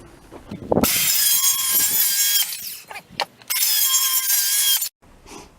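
A power saw rips strips off a wood board on a mini lathe base project, two long loud bursts of cutting separated by a short pause with clunks of handling, ending abruptly.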